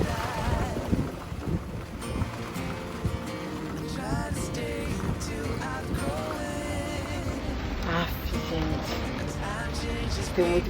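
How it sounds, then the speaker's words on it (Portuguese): Steady roaring wind and rain from a storm on a sailboat buffet the microphone throughout, loud and unbroken, with faint voices and tones mixed underneath. "Desta vez a segunda chuva veio com força e muito vento."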